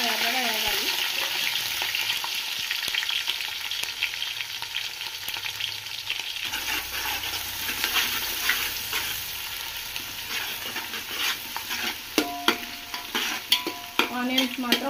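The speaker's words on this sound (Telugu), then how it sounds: "ఆనియన్స్ బాగా ఎర్రగా వేగాలి." Onions frying in oil for biryani, a steady loud sizzle with a spoon scraping and stirring through the pan, sharper clinks near the end.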